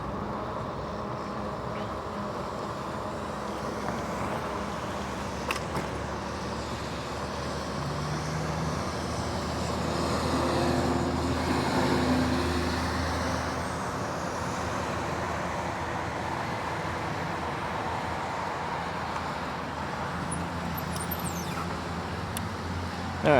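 Steady road traffic drones around an e-bike rider on a major road, with cars passing alongside in a continuous wash of tyre and engine noise that swells briefly midway.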